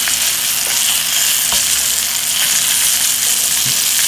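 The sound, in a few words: scallops searing and sizzling in a pan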